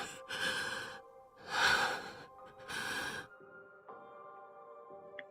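A voice performer's agonized, heavy breathing comes in three long, ragged breaths close to the ear, with quieter, shakier breaths trailing after them.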